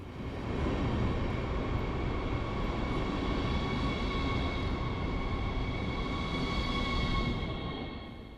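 Polish PKP train pulling into a station, a steady broad rumble of rolling wheels and machinery with sustained tonal whine, loud and continuous before easing off at the end.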